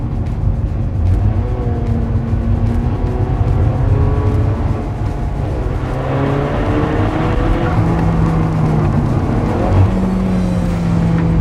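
A 2016 Porsche GT3 RS in manual mode accelerates hard from inside the cabin, its engine note rising steadily through the gears with loud, continuous roar and rising tone sweeps, no talking over it.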